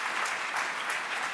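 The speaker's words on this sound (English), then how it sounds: "So can you please give Ella a premature but very well-deserved round of applause." Audience applause for a cello soloist at a spring chorus concert: a brief, dense burst of many hands clapping together, steady and fairly loud throughout, with no voices.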